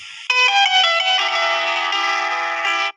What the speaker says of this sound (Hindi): ये तुर्किश रिंगटोन है, आप खुद देख सकते हो।